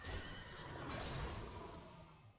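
A horse whinnies loudly as a card sound effect in the Hearthstone Battlegrounds game, a long quavering neigh over a dense noisy backdrop.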